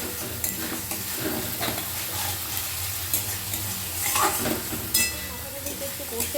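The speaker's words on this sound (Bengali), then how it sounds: "দেওয়ার পরও একটুখানি আমি কষে নেব মাথাটার সাথে মশলাটাকে" A fish head and spices fry in a pan while being stirred: a steady sizzle runs throughout, with scraping stir strokes and occasional clinks of a utensil against the pan.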